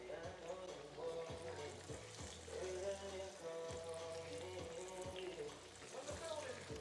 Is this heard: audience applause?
no